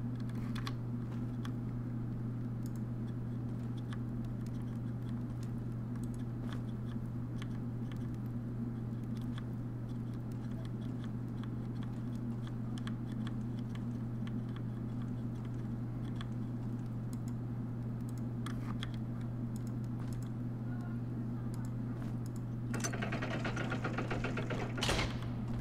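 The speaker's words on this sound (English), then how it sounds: "if you hear the tapping of my keyboard, that's because it's a mechanical keyboard and they are very loud usually" Soft, rapid tapping of a mechanical computer keyboard rattles continuously under a steady low electrical hum, fairly faint and without talk, growing a little denser near the end.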